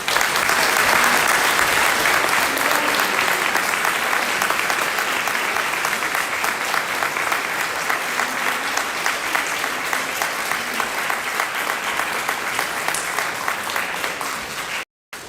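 Prolonged audience applause at a HERO Awards ceremony for a middle school third-place winner, steady dense clapping from a large crowd holding at an even level before cutting off abruptly.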